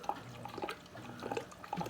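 Water trickling gently from an air-driven hang-on-back aquarium filter, soft irregular drips and splashes, faint and close with no voices.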